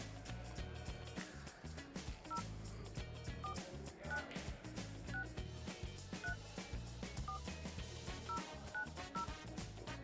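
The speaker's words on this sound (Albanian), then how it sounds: "E telefonojmë Medinën" A telephone number is dialed, with a run of short, clear DTMF beeps spaced a moment apart. Loud, busy background music plays under the tones.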